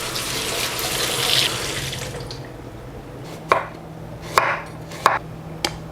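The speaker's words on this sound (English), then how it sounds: "Now I'm going to wash the carrot and then julienne." A kitchen tap runs as a carrot is rinsed beneath it, a rushing water hiss that fades after a couple of seconds, followed by a few sharp clicks and knocks at the sink.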